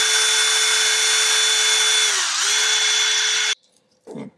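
A power drill bores steadily through a thick silicone mold block with a loud, continuous whine, the pitch dipping briefly as it bites, then cutting off abruptly; a short clunk follows.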